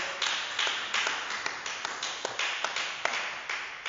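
Church congregation applauding in praise of the Lord during a French-language worship service, a steady run of scattered claps with sharper individual hits over a soft background wash.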